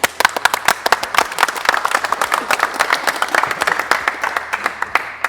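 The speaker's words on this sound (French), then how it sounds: "Zino on applaudit les gars." A futsal team clapping for a teammate who is leaving for a few months: distinct individual hand claps from a small group, close and sharp, uneven and irregular, growing denser before thinning near the end.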